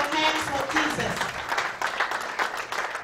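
A church congregation applauds and cheers for Jesus during a service, a dense, steady wash of clapping mixed with crowd voices that fills the whole stretch without a break.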